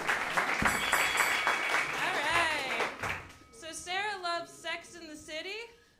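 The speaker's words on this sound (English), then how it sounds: "Y'all give them a round of applause." A burst of audience applause and cheering at a comedy roast battle in New York City fills the space, then fades as a voice starts speaking over the dying claps.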